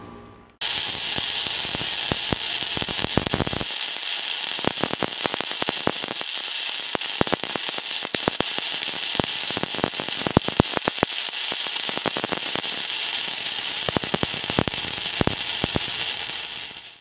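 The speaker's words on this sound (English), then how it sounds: "we're going to do a solid weld on these" MIG welding on LS engine motor mounts gives a continuous loud buzzing hiss dotted with sharp crackling pops and spatter, close and without talk, after a short quiet start.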